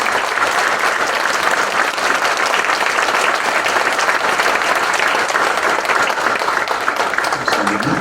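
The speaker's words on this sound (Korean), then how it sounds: "그의 박수 부탁드리겠습니다" Steady, full applause from a church congregation at Siheung First Church's 40th anniversary service, greeting an elder installed as elder emeritus, with the clapping continuous and even throughout.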